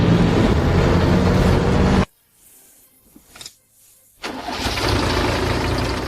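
A car engine, shown in a drama scene with injector trouble and dead cylinders 3 and 4, runs loud and steady, drops to near silence for about two seconds, then fires up again and revs to a sustained roar.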